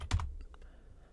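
Fingers tap a few quick keystrokes on a computer keyboard to type a command, a short cluster of close, crisp clicks and then quiet.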